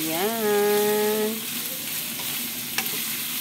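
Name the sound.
stirring bitter gourd with egg frying in a pan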